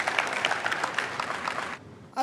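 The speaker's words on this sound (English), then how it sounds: "Clap for Jesus Christ." A church congregation claps in a dense, steady burst of applause that cuts off abruptly near the end, followed by a brief rising sound.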